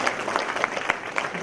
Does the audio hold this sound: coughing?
no